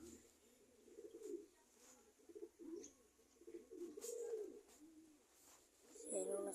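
Pigeons coo softly in a loft, several low, rounded coos in irregular bursts against a quiet background, with a few faint chirps mixed in.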